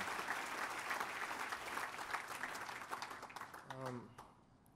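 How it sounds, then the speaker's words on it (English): A crowd applauds a speech honoree in a sustained burst of clapping with voices mixed in, the clapping thinning and fading toward the end. "give her another round of applause"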